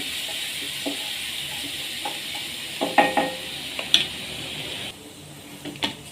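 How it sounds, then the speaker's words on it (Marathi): Chili thecha fries in oil in a kadhai with a steady sizzling hiss, broken by several close scraping and clanking stirs of a spoon against the pan. "ठेचा टाकल्यानंतर आपण मिक्स करून घेऊ आणि तेलामध्ये परतून घेऊ"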